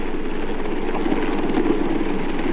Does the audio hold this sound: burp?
no